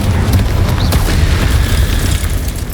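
Incendio fire spell blast cast in the Hogwarts Legacy video game: a loud, sustained roaring boom with a crackling rumble that holds steady for the whole stretch, with no talking.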